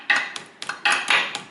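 A hammer strikes a metal pin on a car drive axle during a gearbox seal repair, giving about six sharp metallic knocks in an uneven rhythm, close and loud.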